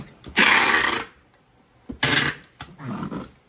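Scotch tape pulled off the roll to seal a delivery box, three loud ripping screeches, near and harsh, separated by short pauses.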